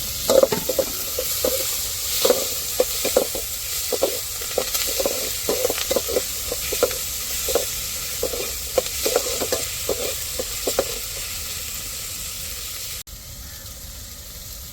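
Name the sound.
frying tomatoes, chillies and shallots for chicken curry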